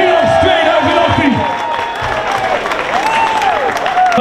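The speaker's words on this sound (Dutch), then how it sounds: "En dan zien we nog één keer uw applaus voor de topmeisjes Winnaars 2018." Loud applause and cheering break out for the 2018 women's winners at an outdoor competition on the Klein Diep in Friesland, with whoops and shouted voices rising over continuous clapping from a close crowd.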